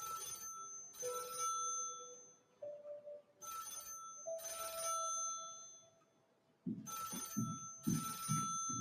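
An old telephone bell ringing in a household, repeated double rings in a steady pattern under quiet, muffled background sounds and a few low thumps.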